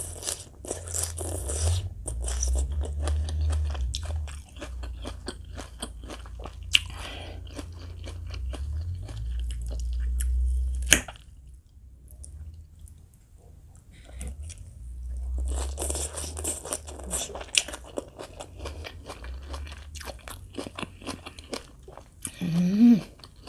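Crunchy Thai green mango salad with freshwater crab, eaten with rice noodles: close, loud crisp bites and steady chewing that crunch in bursts, with a quieter pause midway before the munching resumes.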